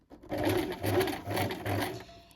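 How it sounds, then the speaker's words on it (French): Sewing machine running a line of stitching on a top a few millimetres from the edge, heard as four close, even bursts of rapid mechanical whirring with brief pauses between them. "vous allez coudre ici à 3-4 mm du bord"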